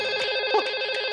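A telephone rings in a scene from a Hindi TV serial, with a steady electronic tone that pulses in repeating bursts. The ringing is clear, close and uninterrupted, and no one speaks.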